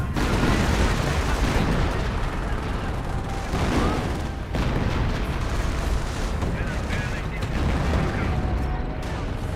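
Rumbling explosions from a creeping artillery barrage in Company of Heroes roll on without pause, dense and heavy, with booms stacking one over another and a voice talking underneath.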